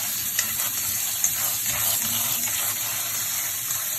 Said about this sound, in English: run it under cold water, so we're gonna stop cooking the pasta immediately